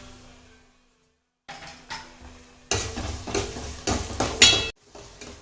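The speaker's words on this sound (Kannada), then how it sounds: "ಟೊಮ್ಯಾಟೊ ಎಲ್ಲ ಹಾಕಿ ಫ್ರೈ ಮಾಡ್ತಿದ್ದೀರಾ?" Onions and tomato pieces frying in a pan, heard as a quiet start, then a gap, then stronger sizzling with stirring scrapes and clinks, growing louder toward the end.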